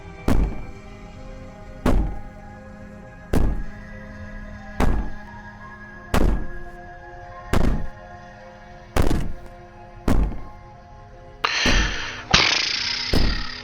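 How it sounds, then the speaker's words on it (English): Heavy thuds of banging on a door in the video game Slay the Princess repeat at a steady, even pace, about one blow every second and a half. Near the end the hits turn harsher and noisier. "Bang on the door all you want, it'll only make it bleed out faster."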